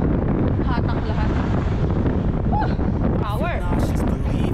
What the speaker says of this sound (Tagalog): So medyo malakas lang yung palo ng hangin.